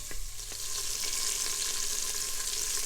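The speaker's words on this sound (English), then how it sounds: "You will then add in your pork or bacon and cook for 3 to 5 minutes." Pork or bacon frying in olive oil in an Instant Pot on saute, with a steady, close hiss of sizzling fat that stays even throughout with no talking.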